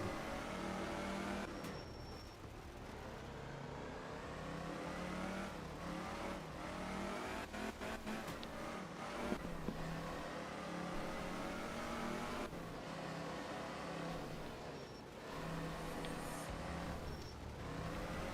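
Racing video game car engine droning and revving steadily throughout, with shifting pitch as the car slides and drifts, loud and continuous with no talk.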